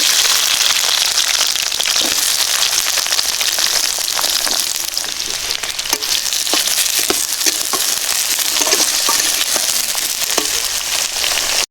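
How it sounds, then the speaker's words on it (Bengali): Cut potatoes and eggplant sizzle in hot oil in a pan, a loud, steady, dense crackling hiss that holds unbroken throughout with scattered sharper pops. "এখন আমি কেটে রাখা আলু আর বেগুনটা দিয়ে দিচ্ছি।"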